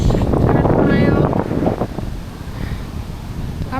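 Strong wind buffets the microphone with a heavy low roar on a lakeside walk near Ambleside Pier, strongest at first and then easing slightly, with faint voices underneath.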